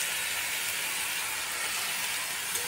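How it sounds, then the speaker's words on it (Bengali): Rice frying in a pan with bay leaves and cashews, a continuous, fairly loud hiss of oil sizzle, steady and unbroken, with no talking. "আমি চালটা ভেজে নেব।"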